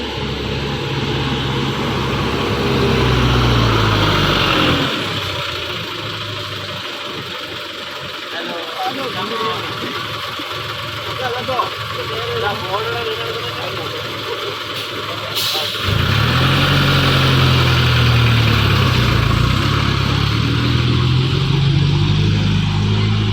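A bus engine rumbles loud and close, idling low with a deep throb, easing off in the middle while a voice talks, then swelling back to a heavy roar.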